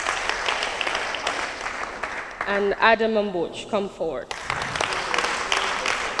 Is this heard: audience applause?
yes